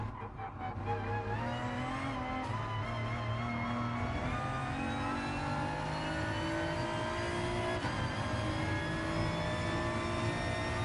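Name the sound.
race car engine in Gran Turismo Sport video game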